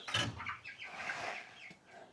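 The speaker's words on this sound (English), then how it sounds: "Let's go check out the 3-week-old chicks." Three-week-old Cornish Cross meat chicks in a brooder give off steady high peeping and chirping throughout, close and moderately loud, with no speech.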